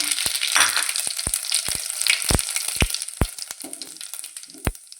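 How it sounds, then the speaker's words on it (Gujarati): Cumin seeds sizzle and crackle in hot oil in a pan while making spicy roasted brinjal bharta, with sharp pops scattered irregularly over a steady close frying hiss. "જીરું સરસ તતરી ગયું છે"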